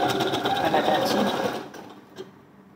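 A sewing machine runs steadily while stitching a quarter-inch seam on a blouse, then stops partway through, leaving a brief quiet tail with a small click.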